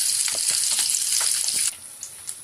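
Vegetable rolling bites fry on low heat with a loud, steady sizzle that drops to a quieter crackle near the end, heard close up with no speech.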